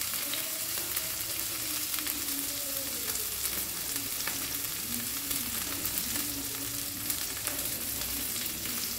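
Split green chili and grated ginger sizzle steadily in hot oil in a pan for fish curry, a continuous close frying hiss with occasional stirring scrapes and no talking.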